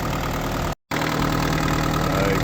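A Holden Rodeo engine idles steadily after sitting for eight years, a continuous close, loud running note with a brief cut-out partway through.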